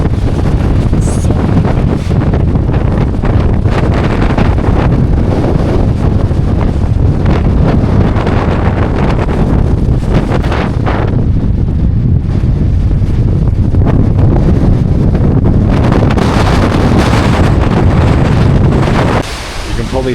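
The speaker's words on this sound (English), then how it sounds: "you can probably hear how windy it is" Strong wind batters the microphone high in the Ruahine Ranges, a loud continuous roaring buffet with gusty surges throughout, a brief lull near the end, and no clear voices.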